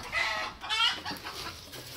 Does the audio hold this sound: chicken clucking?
yes